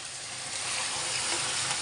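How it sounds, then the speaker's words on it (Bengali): Boiled potatoes lightly frying in oil give a continuous, even sizzle, close and moderately loud with no voices over it. "সেদ্ধ করে আমি তেলে হালকা করে ভাজা করে উঠছি"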